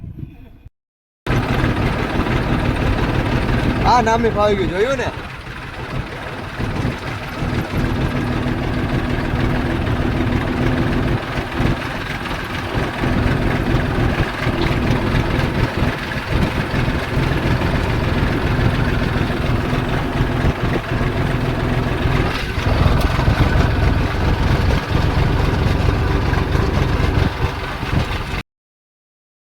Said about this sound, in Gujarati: હવે આપણે ફટાફટ કરી દઈએ ટ્રેક્ટર ચાલુ